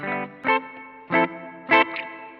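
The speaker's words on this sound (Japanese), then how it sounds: "この辺もホール系ですね。" Processed guitar chords ring out in repeated bursts through a ZOOM MS-50G multistomp pedal, each swelling into a long, spacious hall-type reverb tail that lingers between strikes.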